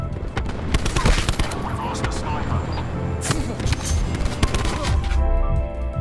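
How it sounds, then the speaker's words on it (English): Black Ops 4 video game gunfire: dense, continuous bursts of shots and explosive impacts layered with game effects, loud and busy throughout, with occasional voices mixed in. "they're shooting it out"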